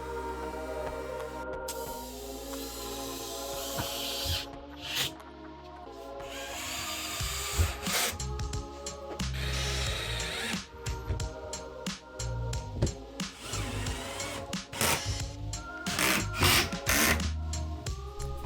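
A router, then a sander, whines and grinds against a wooden floating shelf in long passes, rounding over the edges, stopping and restarting with brief clicks and knocks between, close and steady.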